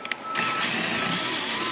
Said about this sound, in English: So what I do to drill through this is just run my drill in reverse.